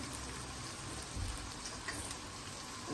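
Masala okra (bhindi) frying in a pan, with a dense, even sizzle and crackle of hot oil that carries steadily throughout and has no talking.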